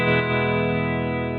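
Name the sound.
guitar through NUX Cerberus with spring reverb and tremolo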